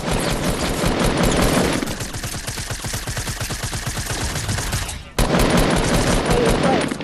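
Video game gunfire: a burst of rapid automatic shots, then a denser rattling stretch of fire, a brief cut to near silence, and loud shooting resuming, all close and harsh.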